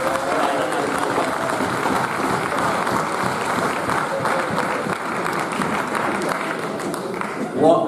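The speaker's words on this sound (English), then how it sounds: "a special round of applause" Sustained applause from the audience at a cricket league annual awards presentation, steady dense clapping filling the room for several seconds and rising briefly near the end.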